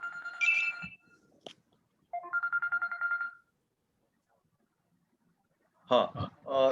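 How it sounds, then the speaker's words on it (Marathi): A phone ringtone plays in short melodic bursts, with pauses between them and another burst near the end. "कोणाचा फोन वाजतो?"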